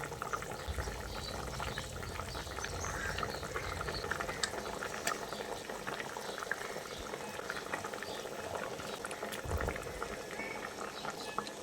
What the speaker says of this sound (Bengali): আর ঝোলটা দেখুন খুব ভালোভাবে ফুটতে শুরু করেছে।